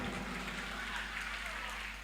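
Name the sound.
audience applause at a Bihu function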